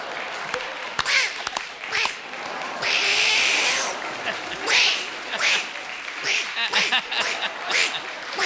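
A man imitates an angry cat's yowling calls in a Rajinikanth-like style during a TV comedy stage show, with several drawn-out meows separated by bursts of audience applause and laughter.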